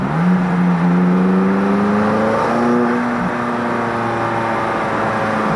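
A McLaren 570S's exhaust drones steadily, its low engine note rising slightly as it pulls, heard from inside the car with no talking.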